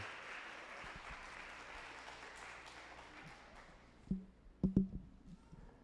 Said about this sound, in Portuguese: Você possa dar um aplauso ao Senhor?